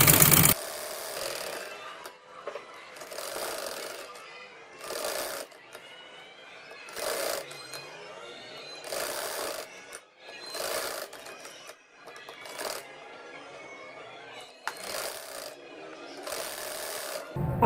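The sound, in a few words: sewing machine stitching a poncha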